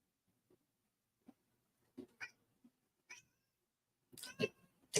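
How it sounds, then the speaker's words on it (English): A house cat gives several soft, short meows, quiet and close, ending with a louder pair of calls, with no talking. "The cat agrees with me, guys."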